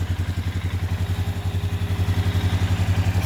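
A Polaris Sportsman ATV engine runs with its wheels jacked up off the ground, a loud, close, steady thumping idle with an even rhythmic pulse throughout.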